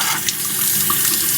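Hot water runs steadily from a utility sink faucet, a loud, close, continuous rushing splash that stays even from start to finish with no talking.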